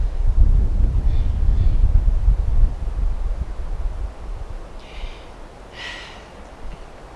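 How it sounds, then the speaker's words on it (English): Wind buffets a microphone outdoors in a low rumbling gust that fades after a few seconds, followed by quieter breathy sounds and faint rustles. "you're going to hear a little bit of wind"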